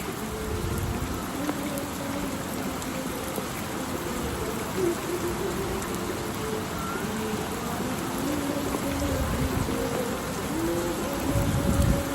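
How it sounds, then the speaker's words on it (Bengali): Steady rain pours onto an open rooftop in a sudden downpour, a dense continuous hiss with a faint low rumble, holding even throughout and swelling slightly near the end, with no voices. "কি সুন্দর বৃষ্টি হচ্ছে"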